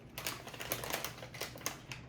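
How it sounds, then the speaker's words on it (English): Crisp, rapid crunching of a hard, spicy, triangle-shaped Indian snack with a corn-nut flavor, repeated bites and chews close to the listener, with no talking. "Got a real nice crunch."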